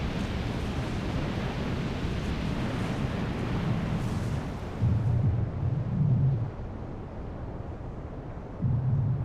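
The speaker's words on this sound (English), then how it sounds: "When the erupting magma comes into direct contact with a body of water, the very large contrast in temperature causes both the water and the magma to explode" Erupting magma meeting a body of water at a giant volcano, a loud continuous roaring rumble with heavy low bursts swelling in and out, no voices.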